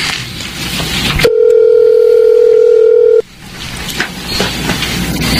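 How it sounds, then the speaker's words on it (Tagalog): A mobile phone's steady dial tone sounds loud and continuous for about two seconds, cutting in abruptly and stopping abruptly, with quieter background noise before and after it. "Tatawagan ko na si Roselia."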